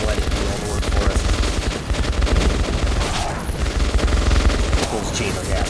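Dense gunfire in the Metro 2033 Redux video game: a continuous, loud barrage of rapid shots and bursts with booming low impacts. It runs through the whole stretch alongside battle noise, and voices can be heard in the mix.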